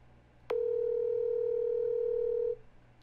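A single steady tone of a phone call ringing out on speakerphone, sounding once for about two seconds with a click at its start, moderately loud over faint room hum, no talking.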